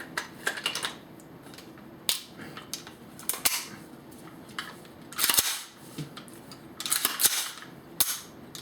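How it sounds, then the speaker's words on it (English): AR-15 rifle function check: sharp, close trigger clicks and reset snaps repeating at irregular intervals over a quiet background. "listen for that trigger reset. I should hear a click. That's your reset."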